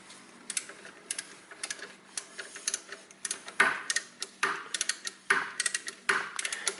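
A torque wrench clicking while bolts are tightened during a front-wheel-drive car clutch replacement, a series of light ratcheting ticks in quick bursts with brief pauses, close and faint, with no voices.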